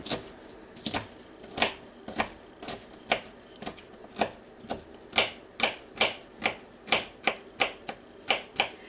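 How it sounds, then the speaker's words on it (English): A knife dices vegetables on a cutting board while making sloppy joes, giving a steady run of crisp, close chopping taps, about two per second, with no talking. "All you got to do is slice it like this, and then go back and just sort of dice it up a little bit."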